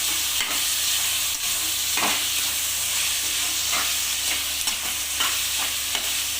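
Tomatoes sautéing in a pan for chicken dum biryani, with a steady, loud sizzle and hiss and occasional stirring scrapes, close up, with no voices.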